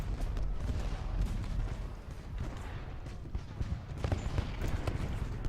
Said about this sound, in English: now they're shooting at Smith